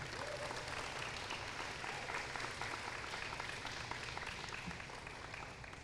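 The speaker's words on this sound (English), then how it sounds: "let's have a round of applause for Jon Ledecky" Sustained applause from a large crowd, a steady dense patter of clapping that holds for several seconds and fades slightly at the end.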